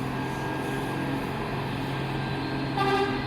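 A bus horn sounds continuously through the whole stretch, a steady multi-tone honk heard fairly close, with a brief louder swell near the end over road and engine noise.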